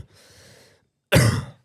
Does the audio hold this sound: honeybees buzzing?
no